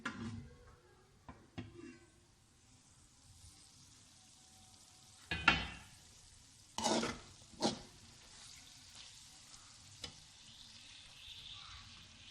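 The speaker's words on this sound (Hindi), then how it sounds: "अब ये अंडे कीमे में शामिल करते हैं।" Eggs are stirred into keema frying in a pan, with a soft low sizzle under scattered spoon scrapes and a few sharper clatters. Quiet overall, with no voices.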